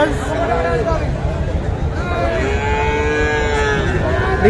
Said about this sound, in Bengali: ছোটো ছোটো বাছুর যেখানে বিক্রি হয় সেই জায়গায় রয়েছে